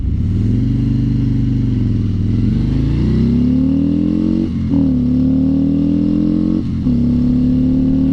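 A new Harley-Davidson motorcycle accelerating: a loud, steady engine drone rising in pitch, broken by two brief dips at gear shifts near the middle and end, heard up close with no talk.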